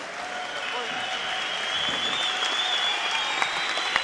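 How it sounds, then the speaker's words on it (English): An arena crowd at an MMA bout between Marcin Tybura and Ante Delija applauding in a sustained, even wash of clapping, with a commentator's voice running over it. "you can hear the crowd, the appreciation"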